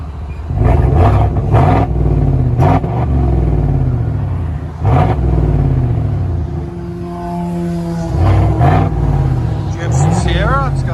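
A lifted GMC Sierra with a 5.3L V8 and a loud aftermarket exhaust rumbles and revs in several deep throaty surges, close and loud, while a person talks over it.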